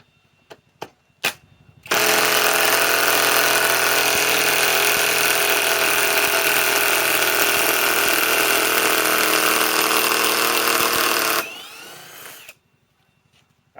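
A Harbor Freight Hercules compact 1/2-inch Gen 2 impact wrench (HCB84B2) backs out a 6-inch lag bolt from pre-drilled wood, a loud continuous hammering whine for about ten seconds after a few short taps, then tapering off.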